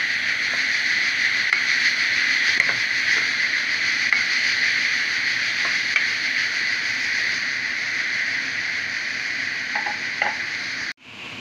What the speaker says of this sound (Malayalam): ചെറിയ തീയിൽ വെച്ചിട്ട് നമുക്ക് വേവിച്ചെടുക്കാം